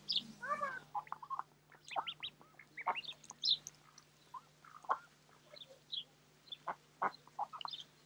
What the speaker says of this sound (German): Oder gar die Enten und Gänse sich im Dorfteich tummeln.